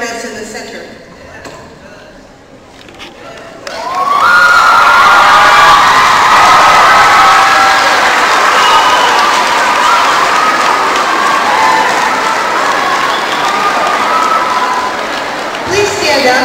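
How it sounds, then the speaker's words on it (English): Loud, sustained applause and cheering from a school assembly crowd of children at a Veterans Day event, starting abruptly after a quieter stretch and carrying steadily for about twelve seconds before tapering. "give them the round of applause they deserve"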